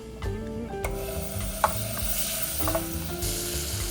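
Butter melting and sizzling in a pan as a roux begins, a steady close crackle with a sharp clink partway through and music playing underneath.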